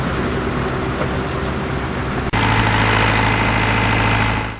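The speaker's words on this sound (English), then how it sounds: "we've got this TM 130 from New Holland" A New Holland TM 130 tractor, built in Basildon, England between 2002 and 2007, idles with a steady low diesel rumble at a classic working event, then its engine note rises and roughens after a brief click midway.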